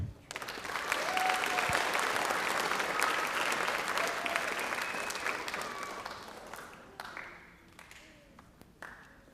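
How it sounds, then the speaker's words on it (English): Audience applause fills the hall after a 7th grade middle school concert band performance at a spring band concert, a dense sustained clapping that swells early and gradually thins into scattered claps near the end. "Let's give them another round of applause"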